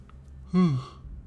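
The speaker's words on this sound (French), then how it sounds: "Les bâillements sont de retour." A single short voiced yawn, close and fairly loud, a brief rising-then-falling exhale standing alone.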